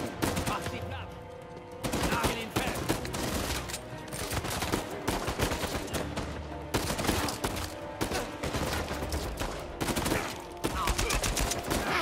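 Dense bursts of gunfire ring out in Uncharted 4, with rapid automatic fire and separate single shots overlapping across a ruined jungle-style firefight. The shooting is loud and nearly constant, with brief lulls between volleys.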